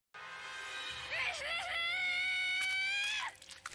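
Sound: anime character screaming in Stone Ocean episode

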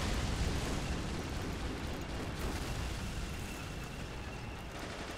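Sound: grenade explosion in video game Men of War: Assault Squad 2

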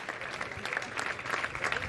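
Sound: applause at Misano motorcycle race podium

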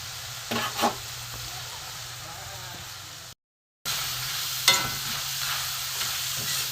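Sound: potatoes frying crisp and being stirred

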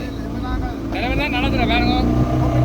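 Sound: boat engine revving

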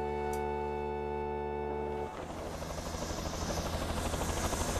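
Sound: cartoon helicopter flying

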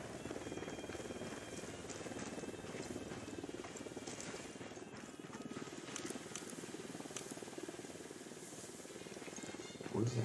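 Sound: helicopter in video game

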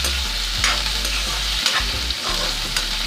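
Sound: stir-frying cauliflower stalks with ginger garlic paste

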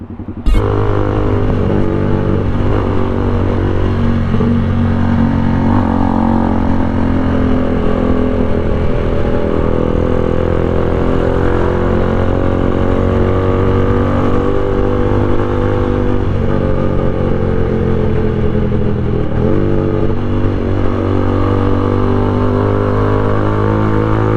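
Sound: loud motorcycle muffler revving

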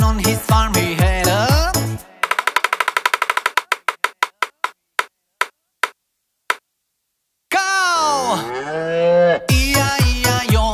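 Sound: cow mooing

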